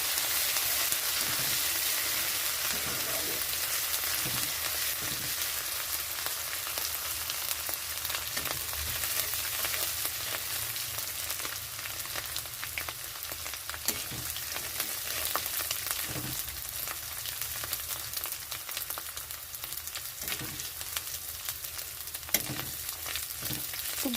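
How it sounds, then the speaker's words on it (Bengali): Bay leaf, ginger and garlic fry in a pan for a spicy fish curry, giving a continuous close sizzle with scattered taps of stirring across about twenty-four seconds and no talk. "রসুনটা একটু ভেজে নিতে হবে।"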